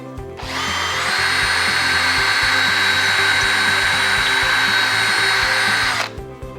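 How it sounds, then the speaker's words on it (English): A power drill with a 5/32-inch bit boring holes for a jamb mount handrail, one steady, loud, high-pitched whine lasting several seconds before winding down, close by and alone. "The next step is to drill your holes using a 5/32" drill bit."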